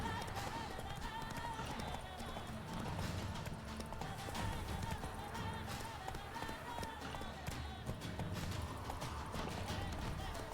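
Roach, a horse in The Witcher 3, gallops with a steady, continuous clip-clop of hooves, with snorts and whinnies over busy game ambience.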